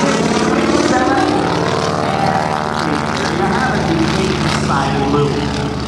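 Blue Angels jets fly aerobatic maneuvers at a 2008 homecoming airshow, a loud, continuous engine roar that rises and falls with shifting pitch, while a voice talks over it throughout.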